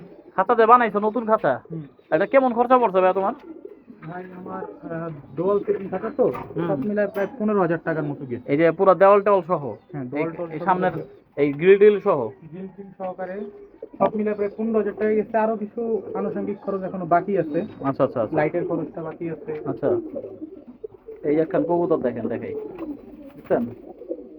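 Pigeons in a cage coo repeatedly in bursts, a dense run of soft throaty calls close by, with brief pauses between phrases and other birds overlapping.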